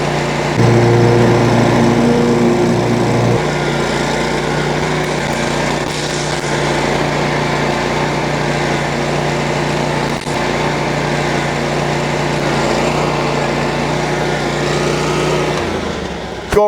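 A commercial stand-on lawn mower with a zero-turn style chassis runs with a steady, loud engine drone that holds constant for the whole stretch, close by, with no talking.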